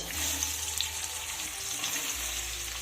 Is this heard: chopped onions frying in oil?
yes